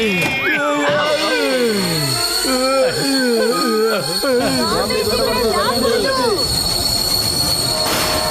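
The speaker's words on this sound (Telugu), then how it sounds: "ట్రైన్ ఆగిపోయింది, త్వరగా మీరు ముందుకు వచ్చేయండి" A train braking to a halt at a station, loud and close, with wheels squealing in long rising and falling shrieks over a steady rumble that fades into broadband hiss as it stops; a voice talks over it.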